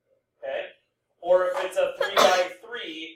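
A single short sneeze bursts out, followed after a brief pause by someone speaking steadily at close range.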